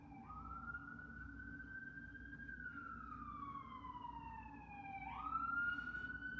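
A single emergency siren wails steadily outdoors in New York City, its pitch sliding slowly down and then jumping back up, over a constant low rumble of city traffic.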